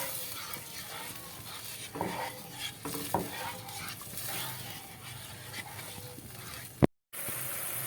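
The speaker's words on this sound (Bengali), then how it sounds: "এই যে চিনির জলটা ভালো করে ফুটে উঠেছে" Sugar water bubbles and simmers in a pan, a soft steady crackle close by with a few clinks of stirring.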